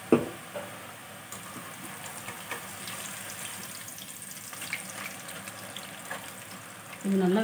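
Karasev, a gram flour snack, frying steadily in sesame oil with a constant dense sizzle and bubbling, a few soft stirring clinks scattered through, and a louder clatter near the end.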